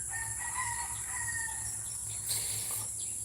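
A rooster crows among chickens at a farm chicken coop, with a long drawn-out call over a constant shrill insect drone and low background hum, no speech.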